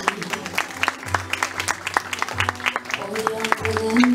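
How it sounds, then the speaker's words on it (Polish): Applause from a gala audience at a fashion show, with scattered, uneven clapping under amplified speech and background music. It is moderately loud and swells slightly toward the end. "Wielkie brawa."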